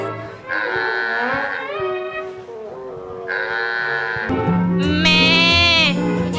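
Someone mimics a goat's bleat in several quavering, wavering calls, the last one higher and more strained, with faint background noise.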